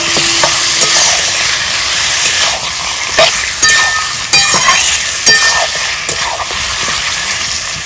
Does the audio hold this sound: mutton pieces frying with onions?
yes